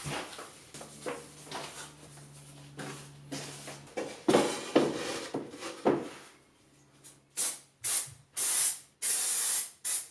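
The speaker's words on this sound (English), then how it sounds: "attaching the 2mm headlining fabric to the box that we built using some high temperature contact adhesive" High-temperature contact adhesive sprayed from a can onto 2mm headlining fabric on a van seat base box, several short hissing bursts near the end after quieter rustling and handling of materials.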